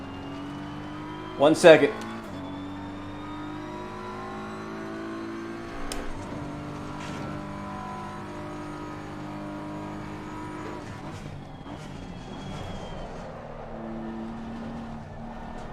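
Race car engine in Assetto Corsa Competizione drones steadily with shifting pitch under the throttle, with a sharp loud burst near the start, while someone talks over it.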